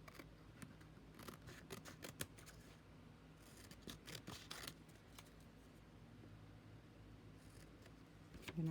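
Scissors trim paper for an altered book journal, giving a series of quiet, crisp snips close by. The cuts come in irregular short bursts with pauses between them, and nobody talks.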